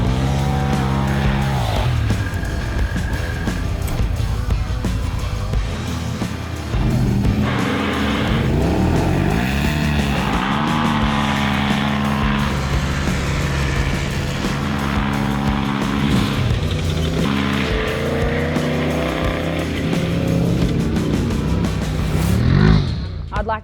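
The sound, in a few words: Toyota LandCruiser 79 and Polaris RZR Turbo R drag race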